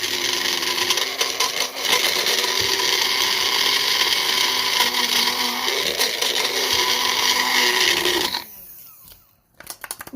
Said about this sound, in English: This is actually just some Oreos. And I'm going to grind these up a little bit.